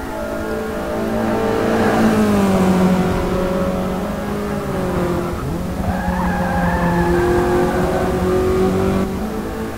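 Mazda MX5 race cars screaming around a track in a spec series, several engines revving and shifting pitch together at close range, with tire squeal mixed into a steady, loud drone.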